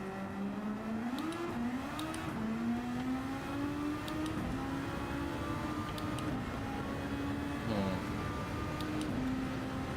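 A Formula-style race car in Gran Turismo 7 drones along with its engine note rising and falling through gear shifts, a steady close whine with occasional brief clicks, and the continuous engine sound runs for the whole stretch.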